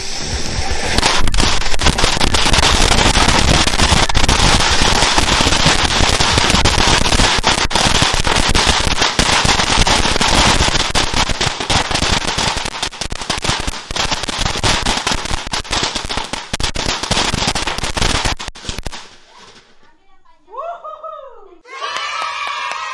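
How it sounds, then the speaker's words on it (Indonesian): A long, dense barrage of rapid bangs from a Flower Tower firecracker crackling loudly and continuously for about twenty seconds, then stopping, followed by brief voices and whistling. "kita mau bakar petasan Flower Tower"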